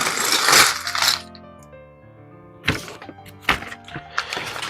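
Plastic Lego pieces clatter and tumble inside a paper bag as it is torn open, a loud rustling rattle first, then a pause and several sharp bursts of clicking pieces.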